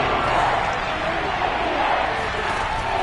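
A stadium crowd in Madden 22 builds ahead of a big third down, giving a steady, broad roar that holds at an even level through the whole stretch with no pauses.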